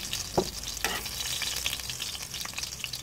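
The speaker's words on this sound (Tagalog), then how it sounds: "Igigisa lang natin tong bawang." Chopped garlic sautéing in a hot pan gives a steady close sizzle with a few sharp stirring clicks near the start; no one talks.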